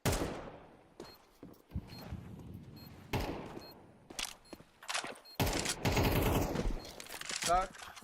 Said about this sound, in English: Keep playing forward with that MP9. Nice shots from Gade.